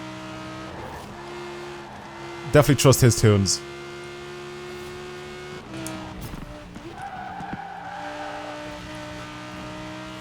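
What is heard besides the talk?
Italian supercar driving and skidding in Forza Horizon 4 video game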